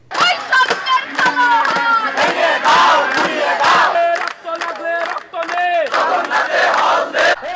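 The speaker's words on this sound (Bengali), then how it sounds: "এই স্লোগান যেন থামার নয়" Protesting students at Jagannath University (JnU) chant slogans loudly in unison, a dense crowd of voices rising and falling in rhythmic bursts that continue throughout.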